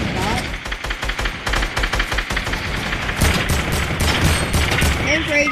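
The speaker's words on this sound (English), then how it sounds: "There's a kid with a turret on me!" Rapid turret gunfire in a battle-royale video game, dense overlapping bursts of shots with booms, loud and continuous throughout with some background game noise.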